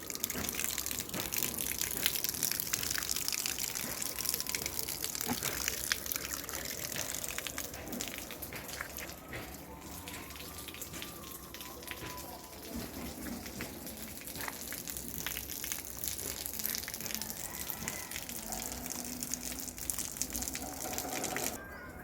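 Water gushes and splashes steadily while washing out a backyard pond, a continuous rushing flow with fluctuating spray over the whole stretch.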